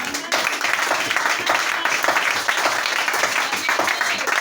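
A church congregation bursts into sustained applause, dense steady clapping from many hands filling the room for several seconds, loud and continuous with a voice faintly underneath.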